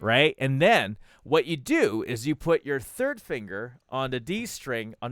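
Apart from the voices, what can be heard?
No everyday noise stands out behind the speech.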